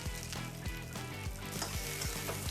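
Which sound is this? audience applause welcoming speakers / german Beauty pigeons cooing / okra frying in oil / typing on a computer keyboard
okra frying in oil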